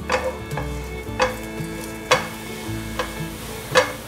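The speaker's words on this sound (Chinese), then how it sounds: "油热了，现在放入猴头菇，把猴头菇炒香" Chopped lion's mane mushrooms stir-fried in hot white sesame oil in a wok, with a steady close sizzle and periodic sharp scrapes and clanks of the spatula tossing the pieces, no voices.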